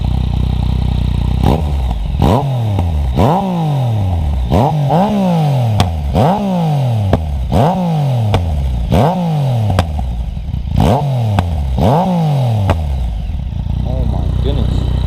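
A 2016 Yamaha FZ-09/MT-09 motorcycle engine revs repeatedly through a loud, raspy aftermarket exhaust, each rising blip dropping back in a steady rhythm of about ten throttle bursts.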